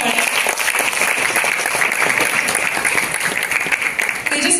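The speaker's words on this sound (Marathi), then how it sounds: "तेजस्विनी आणि वर्धासाठी सुद्धा जोरदार टाळ्या" An audience applauds at a Marathi film trailer launch event, with dense, steady clapping filling the room for several seconds without a break.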